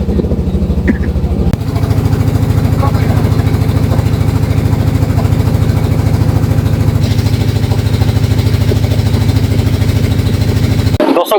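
A boat engine runs on a haor wetland at Tanguar Haor, a steady loud, close chugging drone with a fast regular beat that holds throughout and drops out at the very end.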